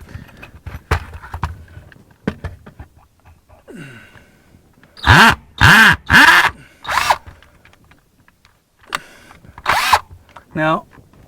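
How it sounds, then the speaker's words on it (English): A power drill bores a hole up through a roof in a series of loud, short bursts, each whine lasting about half a second, separated by pauses and scattered handling noises. "We're going to go ahead and drill our hole up through the roof"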